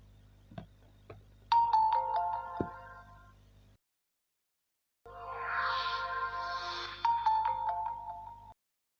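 A QMobile View Max Pro and an itel Vision 1 Plus play startup tones while rebooting, two bursts of melodic electronic chimes separated by a few seconds of silence, close and moderately loud.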